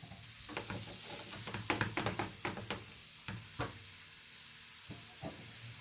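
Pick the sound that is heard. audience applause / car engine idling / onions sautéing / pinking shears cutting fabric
onions sautéing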